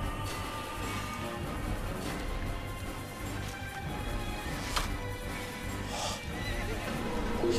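Horse in the Assassin's Creed video game set in Jerusalem, whinnying amid hoof clip-clops and battle clatter, with game ambience continuing under it.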